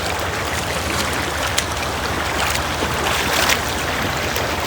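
Fast-flowing rainwater rushing during heavy rain in Udupi, a steady, loud broadband wash of moving water that holds constant throughout with no voices.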